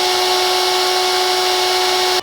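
A 2 mm bit drills into a bearing housing on an old grinder, giving a steady, loud whine with a strong constant tone that runs unbroken for about two seconds before cutting off abruptly.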